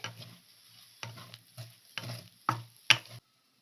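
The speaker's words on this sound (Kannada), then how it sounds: "ನಾನು ಇದಕ್ಕೆ ಇವಾಗ ಸ್ಪ್ರಿಂಗ್ ಆನಿಯನ್ ಹಾಕೊತಾ ಇದ್ದೀನಿ ಹಾಕೊಂಡು ಇವಾಗ ಫ್ರೈ ಮಾಡ್ಕೊತೀನಿ" Egg and spring onion fry in a pan, stirred in about five rhythmic scraping strokes over a soft sizzle, close and clear with no talk.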